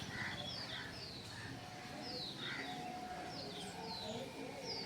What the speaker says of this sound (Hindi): बहुत सारी चिड़ियाँ रहती है इस पेड़ पे। मतलब कि घोंसला भी बनाती है, बहुत सारे कौवा तो ज़्यादातर बनाती है